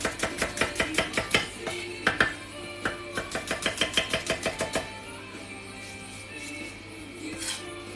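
Knife chopping king oyster mushrooms on a board, a rapid run of crisp, close, evenly spaced chops with a few pauses, trailing off into quiet kitchen background.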